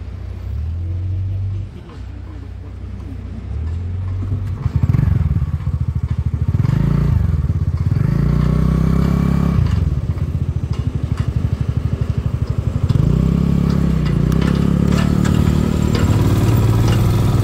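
Royal Enfield Himalayan 411 motorcycle climbing a mountain road near Pelling, its engine droning steadily up close and rising in pitch as it pulls through the gears, with a voice talking over it at times.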